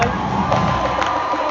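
A large, excited crowd cheers and roars continuously at a season-ending show with a marching band, a dense, steady wall of loud voices.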